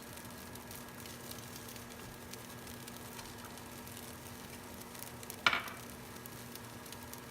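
Green onions frying in a pan for vegetable fried rice, a faint, steady sizzling hiss with one brief clatter of a utensil partway through.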